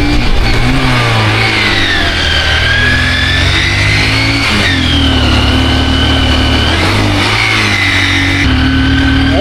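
A motorbike engine labours in first gear on a rough hill road to Parasnath, loud and close. It drones steadily, with the pitch rising and falling as the revs shift.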